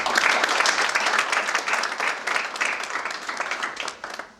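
A theatre audience applauds warmly at the opening of a Belgian exhibition, dense steady clapping filling the room for several seconds, loud and close, slowly thinning toward the end.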